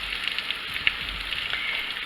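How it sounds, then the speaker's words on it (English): Sliced sausage and tofu browning in a pan over turned-down heat, a soft continuous sizzle with small crackles and pops, no talking. "The sausage, the tofu's getting brown."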